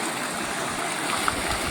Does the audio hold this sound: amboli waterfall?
yes